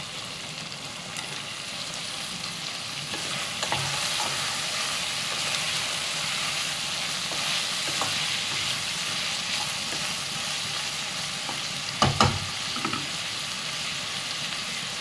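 Beans, carrot and potato sizzling in a pan for Tamil white kurma, a steady crackling fry with occasional stirring clatter and a louder clank near the end, no voices.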